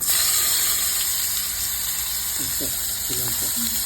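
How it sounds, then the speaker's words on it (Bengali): Onions frying in oil with black cumin produce a steady, close sizzling hiss throughout, while a voice speaks briefly over it near the end. "একা পেঁয়াজ দিয়ে দেবো"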